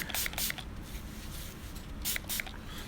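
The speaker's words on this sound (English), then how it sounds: "Spray this on there." A spray bottle misting liquid onto skin during a tattoo session, heard as two quick pairs of short, sharp pumping spritzes, close by, separated by a quiet pause.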